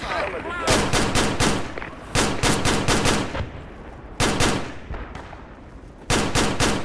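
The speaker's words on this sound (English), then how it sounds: "I'm just blind firing." Automatic gunfire in the Project Reality video game, loud repeated bursts of rapid shots separated by brief pauses, with a voice talking between volleys.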